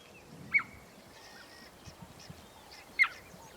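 Wild cheetahs in African bush give two sharp, high, bird-like chirps a few seconds apart, moderately loud against faint background rustle.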